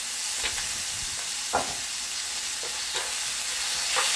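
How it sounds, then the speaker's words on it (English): Minced meat frying in a wok for mapo tofu, a constant hissing sizzle with occasional stirring scrapes and soft knocks, close and steady, no talk. "And we'll just cook a little bit, almost that meat looks pink"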